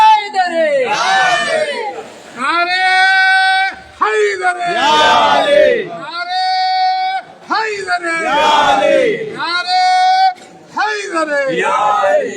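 A large crowd at a Ghadeer gathering shouts the slogan Nara-e-Wilayat in repeated call-and-response bursts, a lead voice calling and many voices roaring back in loud rhythmic waves with short gaps between them.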